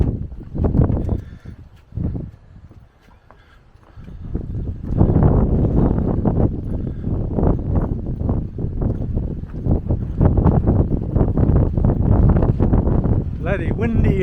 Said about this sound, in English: Wind's coming up again